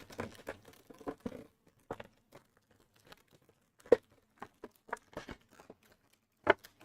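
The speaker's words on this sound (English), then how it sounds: "I'm destroying the packaging right now." Irregular bursts of cardboard and plastic tearing and crinkling, close by, in scattered short rips separated by brief pauses.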